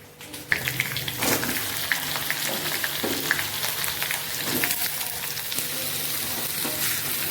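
Pumpkin pieces dropped into hot oil with spices in a pan, bursting into a loud crackling sizzle that continues steadily, broken by scraping stirs and small pops.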